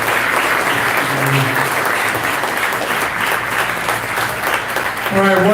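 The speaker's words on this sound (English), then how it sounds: "But let's give him another resounding round of applause." A campaign rally crowd for Rand Paul and Cameron Hamilton's District 7 congressional race bursts into loud, sustained applause, with cheers and voices mixed into the dense clapping throughout.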